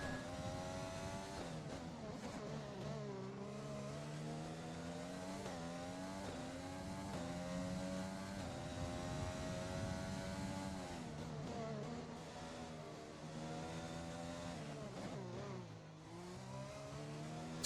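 A Formula 1 car engine screams through a fast lap of the France GP in the F1 2020 video game, holding a loud, continuous high whine with repeated gear-shift rises and dips and no voices.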